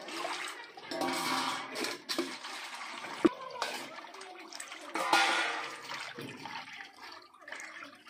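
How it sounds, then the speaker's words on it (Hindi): Barari fish being rinsed by hand in water, with close, irregular sloshing and splashing that swells and fades in uneven bursts, plus a few sharper drips and knocks. "देखिए इसको बढ़िया से धो लेते हैं।"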